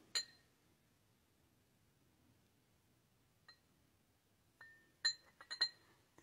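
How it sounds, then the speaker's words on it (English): A magnet rolled around the outside of a drinking glass gives sparse, bright clinks: one sharp ring at the start, then a cluster of quick taps near the end, with near silence between them. "I'm just rolling the magnet around the glass"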